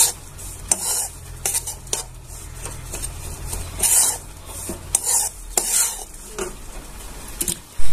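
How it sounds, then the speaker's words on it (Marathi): Grated coconut roasted in a pan while being stirred, giving a soft continuous sizzle broken by frequent metallic scrapes and clinks of a spoon against the pan, close and fairly loud with no voices. "ते छान असं परत त्याच्यात परतून घ्यायचं आहे."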